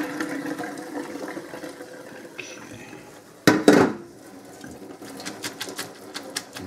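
Pasta water poured from a pot into a big colander, a brief loud splashing gush midway, then clinks of cookware, under quiet kitchen background noise.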